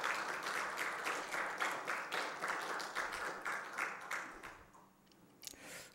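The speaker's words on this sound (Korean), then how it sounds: "다시 한번 박수해 드리십시다" A church congregation claps in a steady, moderate burst that thins out and fades near the end.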